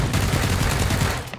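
Gunfire in the PUBG Battlegrounds video game, a rapid, continuous burst of loud automatic shots lasting just over a second, with no talk.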